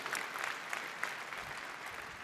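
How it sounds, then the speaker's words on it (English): An audience applauds at the Cisco Live 2025 Amsterdam opening keynote, steady dense clapping from a large crowd filling the hall, moderately distant and even throughout. "Big applause and thanks a lot to all of you"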